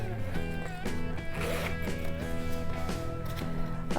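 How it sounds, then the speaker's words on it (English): A zipper on a small front pocket of a cross-stitch project bag rasps open and closed in a few close, scratchy strokes beneath a bed of steady background music. "There's another zipper pocket here where you can put small objects."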